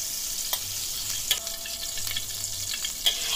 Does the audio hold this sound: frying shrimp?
yes